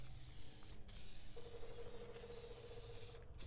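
A spray can lays a heavy wet coat onto a foggy car headlight during a restoration, a steady close hiss running the whole time with brief breaks.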